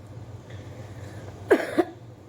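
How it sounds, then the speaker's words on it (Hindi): A woman coughs twice in quick succession, close and fairly loud, the second cough a short follow-up, over a low, steady background hum. "आज खांसी भी हो रही है मुझे"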